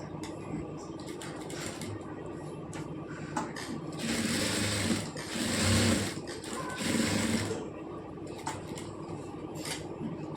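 A sewing machine stitches blouse fabric forward and then in reverse, whirring in a few sustained runs in the middle, with light clicks and handling noises before and after.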